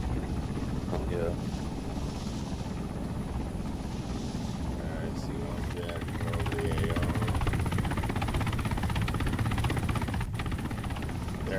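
A Mohawk helicopter in Arma 3 drones steadily with a rotor thrum and engine roar throughout the battle, while players talk over it.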